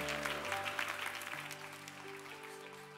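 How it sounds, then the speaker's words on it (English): A church congregation gives a brief round of hand clapping that fades gradually, rather faint, over a low sustained organ or keyboard tone. "give him one more big hand clap"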